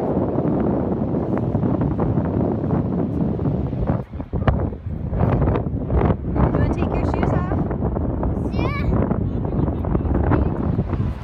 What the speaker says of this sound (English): It's windy. A little bit cold. But we're at the beach.